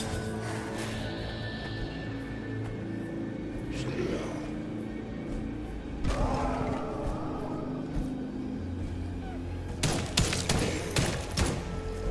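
Gunfire in the horror shooter Enigma of Fear, scattered thumps and shots spread through the clip with a dense burst near the end, set against a continuous game ambience and voices talking over it.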